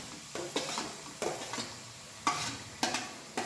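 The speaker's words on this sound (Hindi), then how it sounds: "अब हम डाल रहे हैं इसमें प्याज" Chopped onions and garlic with ginger fry in a pan for a besan gatte curry. A spatula scrapes and stirs in repeated short bursts over a soft, steady sizzle, close by, with no talking.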